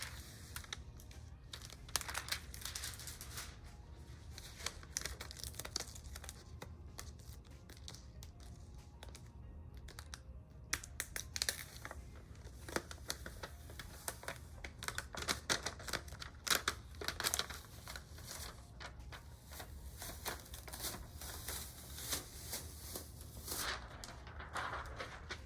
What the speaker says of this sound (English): this is a hot peel, so I'm going to go ahead and peel it